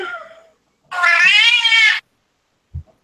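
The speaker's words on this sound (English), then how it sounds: "That's a pissed off cat." A cat lets out one loud, angry, drawn-out meow, close by and on its own, with a brief knock just after it.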